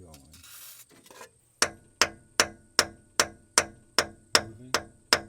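Tapping on a 1972 Plymouth Duster spring to free it, about ten sharp metallic taps in an even rhythm, close and clear, following a short hiss of spray.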